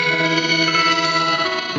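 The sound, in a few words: Pladask Elektrisk Baklengs pedal repeatedly shifting octave upward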